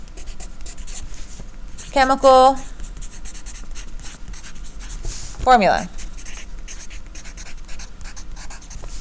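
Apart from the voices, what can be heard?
pen writing on paper while taking notes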